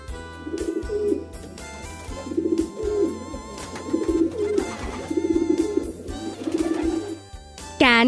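A pigeon coos in a steady, repeated rhythm of soft, throaty rolling calls, close and clear, over background music.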